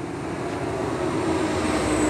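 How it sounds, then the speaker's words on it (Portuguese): A passing train rumbles as a steady, broad low roar with a faint tonal hum, holding at an even loudness throughout with no voices. "Olha o trem ali, ó, bem diferente."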